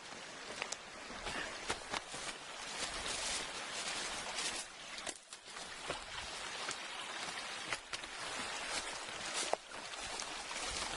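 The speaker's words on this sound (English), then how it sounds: "It's a nice little babbling brook." A small babbling mountain brook in the High Sierra gives a constant soft rush of flowing water, heard outdoors with a few scattered crunching footsteps and light knocks on the trail nearby.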